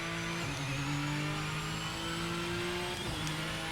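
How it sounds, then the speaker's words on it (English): A turbocharged GTE race car engine in the video game Project Motor Racing hums and revs at a steady pitch, with a brief dip and recovery in tone, sounding mechanical and continuous. "it sounds incredible when those turbos unload"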